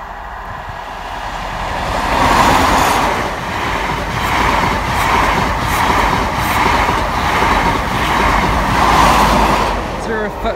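An East Midlands passenger train rumbles past a level crossing, loud and close, with steady rolling wheel noise and rhythmic clacking swelling and fading over several seconds.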